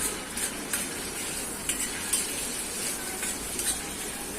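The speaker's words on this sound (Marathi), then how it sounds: "टोमॅटोची प्युरी चांगलं तेल सुटेपर्यंत हिला परतायचं." Tomato puree frying in oil for rajma, stirred until the oil separates, a soft steady sizzle with light scraping and occasional utensil clicks, close and moderately quiet with no talking.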